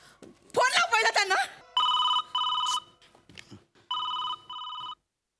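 A telephone rings during a call: after a short burst of speech, a loud electronic ringback tone sounds in paired bursts, two double rings separated by a pause, clear and close.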